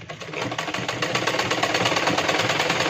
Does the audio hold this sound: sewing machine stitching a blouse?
yes